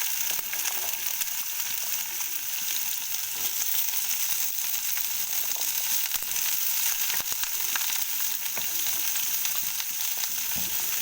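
Cauliflower and potato pieces fry in oil, an even, continuous hiss of sizzling with occasional faint crackles, steady throughout and without speech.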